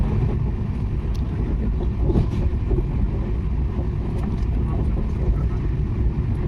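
Inside a moving passenger train, a steady low rumble and rattle continue throughout, with faint speech mixed in.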